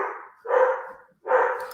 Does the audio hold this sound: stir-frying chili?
no